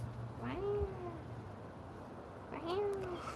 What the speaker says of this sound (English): That's our old kitty. She's our oldest cat we got right now.